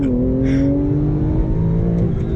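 Porsche 911 in Sport Plus mode launching from a standstill under launch control, its engine held at a steady high drone with rising harmonics, loud and close for the whole stretch, no voices.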